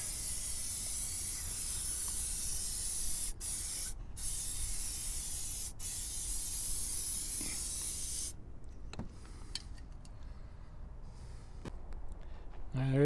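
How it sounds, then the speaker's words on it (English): Steady close hiss of an aerosol lubricant spray onto RV slide-out gears for several seconds with brief pauses, then it stops, leaving quieter shuffling and faint background noise. "So I got to crawl underneath there and spray it on the gears."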